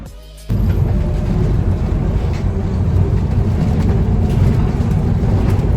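A city bus pulling in, with a steady loud low engine rumble and wind buffeting that begin abruptly and continue throughout, close by and unbroken.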